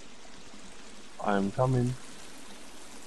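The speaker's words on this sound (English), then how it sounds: "Wow, yeah, I hear that water." A steady wash of running stream water hisses faintly in the background of The Forest, continuous and soft, while a person briefly speaks over it.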